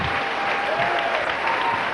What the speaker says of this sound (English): You ain't have to clap.